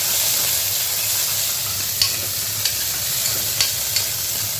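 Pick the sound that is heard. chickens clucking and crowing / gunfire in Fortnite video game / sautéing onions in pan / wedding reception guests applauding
sautéing onions in pan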